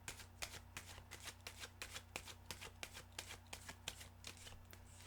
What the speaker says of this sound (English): Sorry, I need another shuffle.